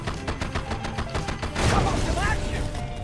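Rapid gunfire from base defenses in Red Alert 2, a quick rhythmic string of sharp shots followed by a heavier burst of blasts and mechanical clatter, with game voice lines partly over it.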